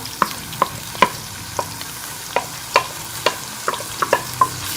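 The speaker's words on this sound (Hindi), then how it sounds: "और प्याज को लाइट गोल्डन डालेंगे।" Onions frying in a pan for chicken liver masala, with a steady sizzle under repeated sharp scraping and stirring strokes from a spatula against the pan, close and fairly loud.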